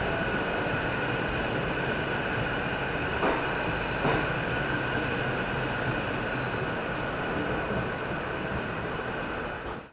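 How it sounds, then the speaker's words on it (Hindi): Raxaul Howrah Express pulling out of Barauni Junction, heard as a steady, loud rumble of rolling coaches with faint wheel squeal and a couple of rail clicks, continuous throughout with no talking. "फाइनली अपनी रक्सौल हावड़ा एक्सप्रेस निकल चुकी अपनी बरौनी जंक्शन से आधे घंटे डिले के साथ।"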